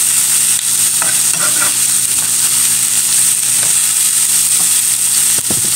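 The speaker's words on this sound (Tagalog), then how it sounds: "Ibisa ko na po dyan ang ating konting hipon." Shrimp and vegetables sauté in a pan, a steady loud sizzle with scattered stirring scrapes and clinks, with no talking.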